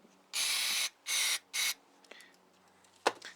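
Carburetor cleaner sprayed through the passages of a Honda GC160 small-engine carburetor: three sharp, close hissing bursts, then faint handling clicks and a brief clatter.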